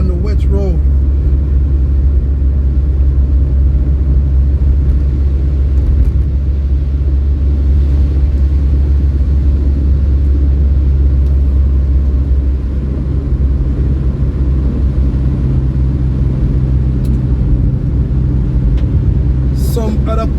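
A car drives steadily along a wet road in Mandeville, Manchester, Jamaica, the day after Tropical Storm Grace, giving a constant loud low engine and road rumble with tyre hiss throughout.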